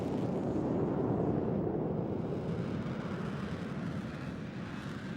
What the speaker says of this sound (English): the afterburners on full reheat immediately took effect